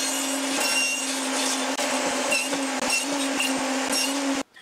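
Wood being cut with a Makita router while building a homemade mini router table, a loud, continuous whine close by with small stutters, then stopping abruptly at the end.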